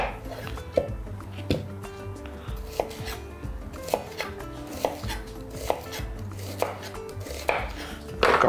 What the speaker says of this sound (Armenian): Սոխը կտրատում ենք փետրաձև